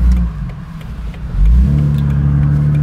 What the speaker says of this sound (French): le gros bruit du 6 cylindres 4 litres avec l'échappement un peu libéré